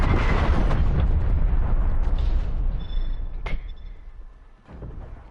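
Artillery strike in a Call of Duty match: heavy, loud explosive blasts rumble and gradually fade, with a sharp crack midway and a smaller thump near the end.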